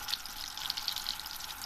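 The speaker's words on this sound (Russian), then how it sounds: "Закладываем лук и обжариваем его" Chopped onion frying over high heat in a pan, a steady bright sizzle with crackling pops running throughout, no voices.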